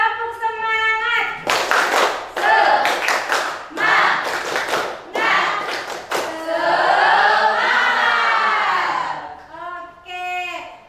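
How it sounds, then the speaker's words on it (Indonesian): A class does rhythmic 'tepuk semangat' spirit clapping with their teacher, sharp patterned bursts of claps alternating with chanted voices and pauses. "Kita tepuk semangat dulu yuk. Oke, tepuk semangat."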